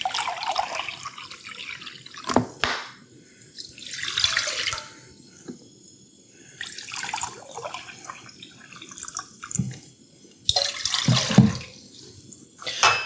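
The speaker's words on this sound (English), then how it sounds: "I'm going to go ahead and put some water in here." Water runs from a tap into a pot in several bursts, splashing and filling, with short quiet gaps between pours.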